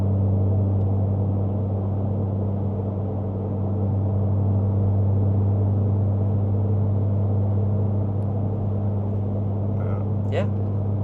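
Acura Integra Type-S with an A'PEXi N1-X catback valved exhaust in sport mode, a steady low droning rumble while cruising around 80, continuous and even throughout with voices talking over it.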